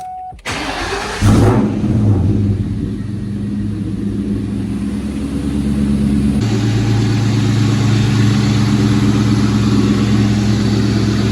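2003 Mustang GT V8 fitted with a JLT ram air intake cranks and catches, then settles into a loud, close, deep rumbling idle with a slight rise in level partway through.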